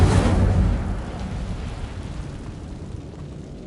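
A fiery whoosh from the Incendio spell in Hogwarts Legacy bursts loudly at the start, then fades into a rumbling, crackling roar that slowly dies away, with no talk.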